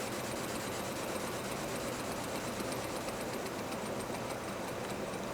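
A tiny working steam engine runs slowly with a steady, fast mechanical chatter like a sewing machine, faint and even throughout, with no voices.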